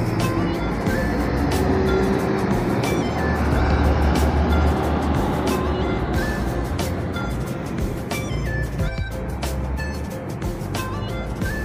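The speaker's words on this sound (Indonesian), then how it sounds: "Ini dia bus Pelita Indah." A Pelita Indah bus at Tamanan bus terminal in Kediri gives a steady, loud engine rumble that runs throughout, under continuous busy terminal noise.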